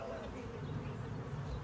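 Bees buzz in a steady, close drone around a honeycomb, a continuous hum with slight wavering.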